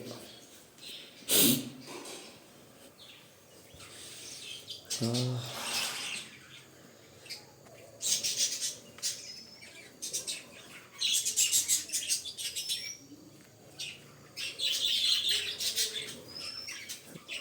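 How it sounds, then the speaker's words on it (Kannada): Birds chirp and tweet intermittently outdoors at a moderate distance, with scattered short calls, a brief flutter, and some low background noise. "ಇಲ್ಲವ್ರು ಪಕ್ಷಿ ಸಾಕ್ಯಾರ"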